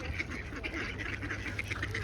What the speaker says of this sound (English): There's like a black duck. There's a few of them.